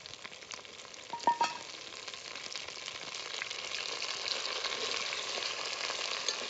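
A soft, continuous sizzle of coriander leaves frying in hot oil for a tempering, with a brief clink early on, steady and fairly quiet throughout.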